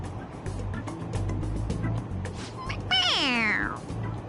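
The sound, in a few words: toy cat meowing when its head is pressed, Persona 5 Royal video game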